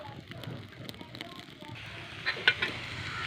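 Mustard seeds and curry leaves sizzling in coconut oil in a clay pot for a cauliflower fry, a soft close crackling hiss with small sharp pops near the end.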